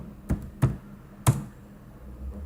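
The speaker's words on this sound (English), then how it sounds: "So let me type the password." Three separate key taps on a computer keyboard while a password is typed, soft and close with quiet pauses between them.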